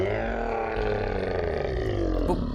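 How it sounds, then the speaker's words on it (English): A wild animal in a forest lets out a loud, sustained roar, harsh and wavering like a person screaming, close and filling the whole clip without any talk. "Another roar sounds, almost like a person screaming."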